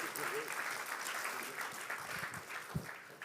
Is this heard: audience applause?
yes